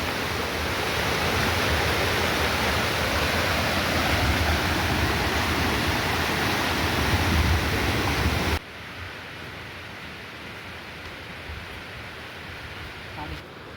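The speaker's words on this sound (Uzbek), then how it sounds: "Mana mana shu yerdan tikka tushadi suv." Paltau waterfall in the Ugam-Chatkal mountains roars with a loud, steady rush of falling water, then drops abruptly to a quieter, more distant wash for the final seconds.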